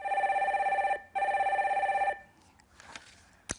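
A telephone rings as a call is put through on a Korean live call-in broadcast: two loud, steady electronic ring bursts with a short gap between them, then a quieter stretch of faint room noise and a small click at the end.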